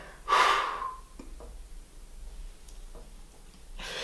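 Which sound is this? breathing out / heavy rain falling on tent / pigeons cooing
breathing out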